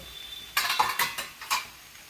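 Fried potatoes tipped into a cooking pot of masala soyabean curry, giving a few close, sharp clattering knocks and scrapes of food and utensil against the metal pot over about a second, then quiet.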